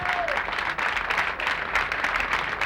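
Audience applause at a Haitian konpa music event, a dense, steady wash of clapping that fills the whole moment without a break, loud and close.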